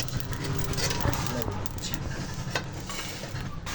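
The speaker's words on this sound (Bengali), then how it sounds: "তার জন্যে এই মশলাগুলো প্রথমে ভেজে নেব" Whole spices fry and are stirred in a pan for olive pickle, a close sizzling hiss with scraping and clinking of a utensil, with a voice talking over it.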